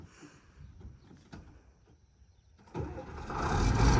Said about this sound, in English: Other great thing about this tractor, fires up every time.